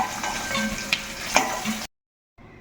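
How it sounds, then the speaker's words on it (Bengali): Eggs frying in oil in a wok, a steady close crackling sizzle with a few stirring knocks that cuts out abruptly, then returns faintly. "তো এখন আমি কিন্তু এই ডিমগুলো এর মধ্যে ভেজে নেব লাল লাল করে।"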